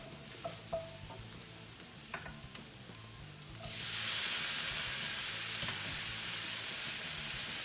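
Potatoes dropped into hot ghee with spices, a few light clinks and stirs first, then a sudden loud, close sizzle that swells and holds steady, with no talking.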